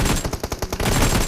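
Rapid automatic gunfire in the mobile game BGMI, a tight burst of about eight shots in quick rhythm, loud and close, followed by a dense noisy tail.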